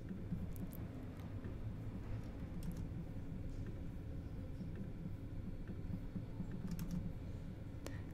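A computer keyboard clicks lightly and faintly, a few scattered keystrokes over a low steady background hum, with no talking.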